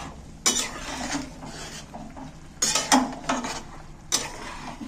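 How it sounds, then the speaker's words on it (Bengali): A spoon stirring mutton curry in a pot, with three bursts of scraping and clinking against the metal, close up over a low simmering hiss. "এইবার আমি ফের নেড়ে দিচ্ছি।"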